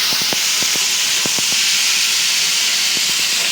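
Spices fry with onions in oil in a pan, giving a steady, loud hiss with no break. A few faint clicks and taps from stirring cut through it.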